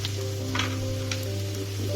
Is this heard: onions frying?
yes